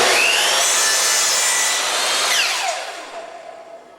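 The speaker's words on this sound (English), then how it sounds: "I'm using a second piece of baseboard trim and going to make a 45° cut in the opposite direction." A power saw makes a 45° cut through wooden baseboard trim, a loud, close whining rasp through the wood that spins down and fades after the cut finishes.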